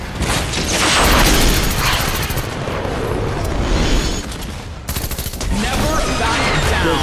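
Loud, rapid gunfire in a meme-style gun game shooter, dense crackling bursts and booms filling the whole span with a brief dip near the middle, played alone without talk.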